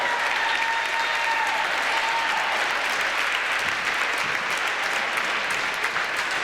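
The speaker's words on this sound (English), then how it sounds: "Let's give another round of applause for the league champs, the Bulls." A crowd at a little-league basketball championship ceremony gives sustained, even applause for the winning team, a steady wash of clapping from a gym audience with faint voices mixed in.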